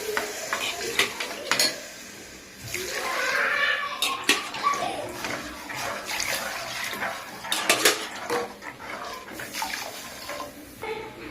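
Water poured into a cooking pot for rice and dal, close and moderately loud, a steady splashing pour with clinks of pots and utensils scattered through the pour.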